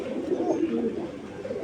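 Giribaz high-flyer pigeons, a pair kept for long flying, coo softly in a low murmuring rumble, close by and steady, with no talk over them.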